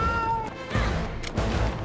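A cat meows in a film scene, a few clear, tonal meows close by with a busy soundtrack and effects underneath.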